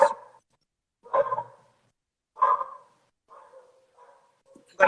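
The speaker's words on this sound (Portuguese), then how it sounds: "Agora são os meus cachorros que não param de latir." Several dogs bark in bursts, about four loud yapping barks spaced roughly a second apart, followed by softer whimpering yips, fairly close and with no talk over them.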